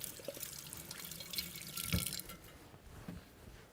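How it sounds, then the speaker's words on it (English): A kitchen tap runs while hands are washed, a soft close trickle and splash with brief spatters that fade toward the end. "wash my hands real quick."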